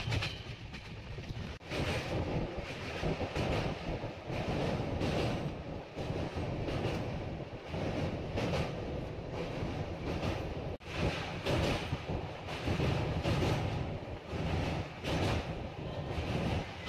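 Howrah–Jabalpur Saktipunj Express running on the line: a continuous rumbling roar from inside the train with rattling wagon noise and faint rhythmic clatter, steady throughout with no talking.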